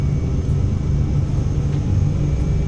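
Vision Jet G2 in Microsoft Flight Simulator on its takeoff roll, a steady loud jet engine rumble with a constant low drone and no break throughout.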